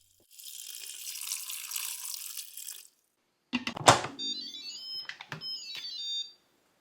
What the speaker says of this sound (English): Then add just enough water to cover all the beans.